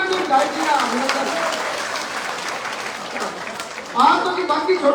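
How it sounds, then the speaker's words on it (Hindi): Applause greets an MLA at a Lok Sabha election office inauguration in Bhadra, clapping running steadily for a few seconds beneath a talking voice, then swelling louder near the end. "जोरदार तालियों से विधायक जी का अभिनंदन"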